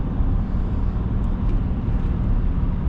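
A 2007 Shelby GT with a 5-speed manual and modified exhaust rolls slowly through a residential community, its low engine and road rumble steady and close with no other sounds over it.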